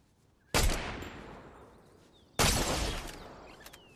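Two loud gunshot blasts in Fortnite during a spectated match, each a sharp broadband crack at close range with a decaying tail, roughly two seconds apart, with no talking.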